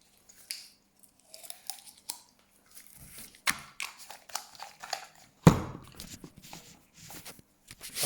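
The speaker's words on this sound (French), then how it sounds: "Je vais ouvrir la sauce." A fast-food sauce packet, cocktail sauce for a burger, being torn open with small crinkly rips and squishes, then a sharp loud tearing burst midway followed by softer handling noises up close.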